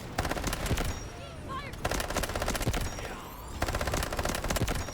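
An MP7 submachine gun in the Delta Force video game fires rapid, dense automatic bursts nearly continuously, loud and close, with other shots and game sounds mixed in.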